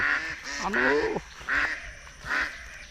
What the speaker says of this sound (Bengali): কি সুন্দর হাঁসের ডাক কি শব্দ